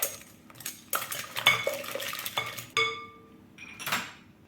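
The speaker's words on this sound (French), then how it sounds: "on fouette jusqu'à ce que le sucre fonde." A whisk beats sugar in a bowl for butter-free sablé dough, producing quick metallic clinks and scraping strokes against the bowl, close and bright, in uneven bursts with short pauses.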